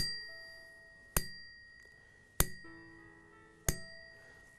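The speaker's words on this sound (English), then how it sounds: "In some Masonic lodges, sometimes there's a bell rung, and what we call high 12." Three clear metallic bell strikes ring out in a Masonic lodge for high twelve, evenly spaced about a second apart, each with a bright attack and a long ringing decay in a quiet room.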